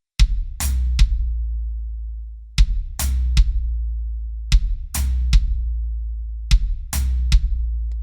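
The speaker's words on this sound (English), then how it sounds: "For beat 3, we're then landing with a bass drum on the 3, our right hand and left hand together on the hi-hat, and then another bass drum." Triplet fill on a drum kit, with bass drum kicks and hi-hat strokes played by both hands together, repeating in short grouped bursts over several bars, close and unaccompanied.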